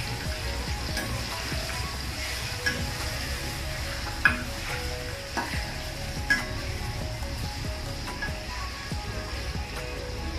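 Chicken fat renders in a pan over medium heat, giving a steady, soft sizzle with a few light clinks of a utensil against the pan, heard close up with no talking.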